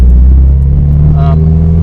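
A Toyota 86 with a DC Sports cat-back exhaust and headers gives a loud, deep, steady exhaust drone with a brief rise in pitch partway through, heard close and alone.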